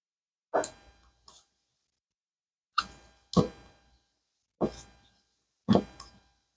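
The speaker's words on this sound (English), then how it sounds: "Scraping the bottom, scraping the sides, stirring." Colored pigment being stirred into epoxy resin in a cup, the stick scraping the bottom and sides in six short, separate bursts spaced a second or two apart, close and fairly quiet.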